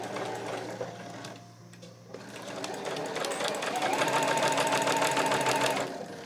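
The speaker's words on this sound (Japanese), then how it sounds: "じゃあこれも返し縫いしないでぐーっと縫っていきましょう。" A sewing machine stitches a seam on a fabric pouch, a rapid even mechanical chatter close by that pauses briefly, then resumes and speeds into a steady run before easing off.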